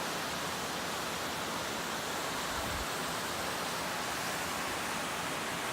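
Steady, broad rushing roar of a mountain waterfall heard from a distance near Durango, continuous and even throughout with no voices or other sounds over it.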